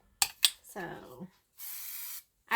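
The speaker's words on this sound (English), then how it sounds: "we'll give this a little shot of spray to the backs of both of these." Spray adhesive hisses from a can in one steady burst of about half a second onto the backs of fabric pieces, following some clattering handling sounds and a stretch of speech.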